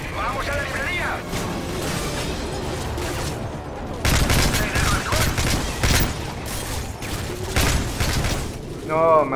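Rapid gunfire bursts from a Call of Duty: Modern Warfare 3 firefight, loud and dense with heavier booming shots after the midpoint, continuing under voices talking throughout.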